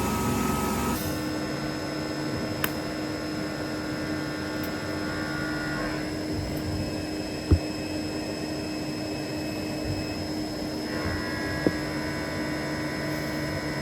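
TIG welding a billet turbo manifold for a Mercedes OM606/605 diesel engine produces a steady, even electrical buzz and hum throughout, close and constant, with a few faint clicks and no talking.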